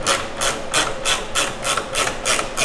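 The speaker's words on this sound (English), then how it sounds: "two screws right there, which you're going to take out with the 10 millimeter." Ratcheting 10 mm socket backing out the taillight screws on a 2014-2021 Lexus IS, a steady run of about eight close, even raspy clicks with no talk.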